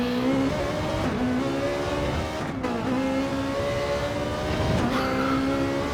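A race car engine runs hard on a track during a league race, its loud, steady drone rising and falling in pitch as it shifts gears through a hilly corner.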